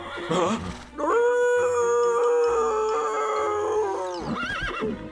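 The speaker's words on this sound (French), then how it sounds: "Attention, Chili, un loup!" A wolf howl in a horse-themed French animated cartoon: one long, sustained, wavering howl, loud and close, with brief vocal sounds just before and after.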